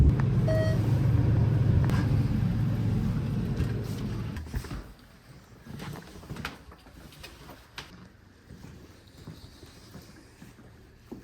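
A car drives along with a loud, low engine and road rumble at first, then the rumble drops to a softer hum with occasional light knocks.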